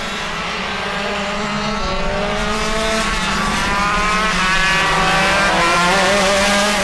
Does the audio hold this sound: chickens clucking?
no